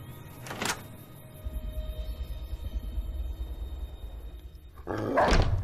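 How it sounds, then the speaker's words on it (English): Dog barking inside the Fallout New Vegas video game, two short bursts near the start and end with a low rumbling game ambience droning in between. "nice Cheyenne, doggy. stay"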